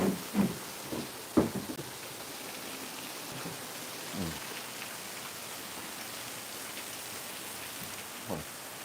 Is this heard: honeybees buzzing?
no